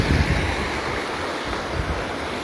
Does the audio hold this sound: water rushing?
yes